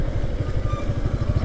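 Motorcycle engine running while being ridden, a steady close throbbing with rapid regular low pulses and slight mechanical clatter, no talking.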